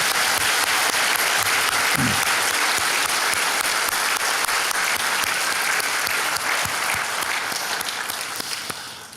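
A church congregation at a Christmas service applauds in welcome of young children, a loud, dense, continuous wave of clapping that eases off toward the end.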